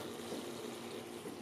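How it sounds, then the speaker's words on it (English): Cold water from a garden hose runs through an immersion wort chiller during home brewing of an ale, a steady continuous rushing flow with no break, fairly close and even in level. "Basically, the cold water from the hose."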